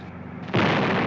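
A cannon loaded with solid gold shells fires once, a sudden heavy boom after a short quiet stretch, then a loud rumbling roar for the rest of the moment.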